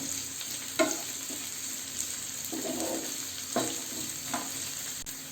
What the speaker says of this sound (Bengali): এরপর দিয়ে দিচ্ছি বিনস। সবজিগুলো খুব বেশি ভাজবো না।